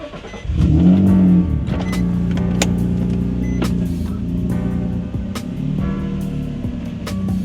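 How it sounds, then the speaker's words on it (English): Nissan 350Z being driven a short distance, its engine starting into a close, steady low rumble that holds with slight rises and dips, with a few sharp clicks and knocks over the top. "gonna move the car real quick"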